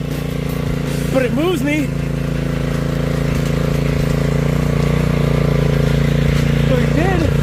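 A homemade drift trike's small engine idles with a steady, low, droning hum that runs throughout, while someone talks over it.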